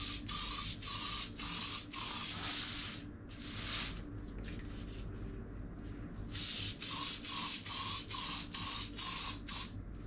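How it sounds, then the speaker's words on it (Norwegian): An aerosol spray can mists lubricant over brass cartridge cases during home reloading, with rapid bursts of short hissing puffs, then a pause and a longer spray, then another quick series of close, loud spurts. "Og så sprayer jeg i to forskjellige vinkler."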